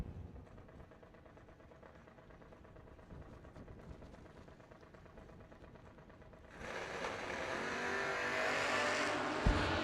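A drag race launch between a 1955 Chevy and a Hayabusa motorcycle at a New Year Nationals event, a steady engine drone building into a sudden loud roar of acceleration partway through that stays strong to the end.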